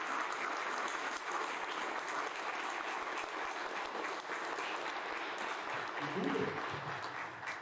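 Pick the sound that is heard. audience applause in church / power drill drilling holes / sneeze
audience applause in church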